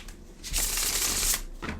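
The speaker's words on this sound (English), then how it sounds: "I'm going to do a little bit of shuffling." Tarot cards being shuffled by hand in one quick riffling burst, close and fairly quiet, with no voices.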